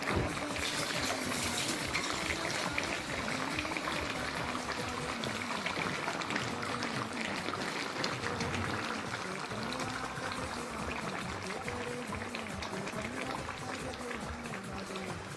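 A steady rush of running water pours continuously for several seconds, bright and close, with a faint low background hum.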